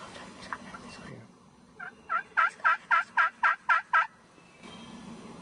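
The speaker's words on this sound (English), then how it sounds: "That's a gobbler." A wild gobbler turkey gobbles in a rapid burst of about eight rattling notes, loud and clear across open ground, followed by quiet.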